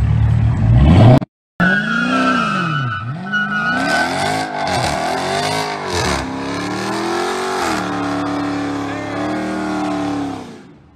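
A car doing a burnout, lighting up its tires: the engine revs up and down in repeated surges with screeching tire squeal, loud and close, after a brief cut, while voices talk over it.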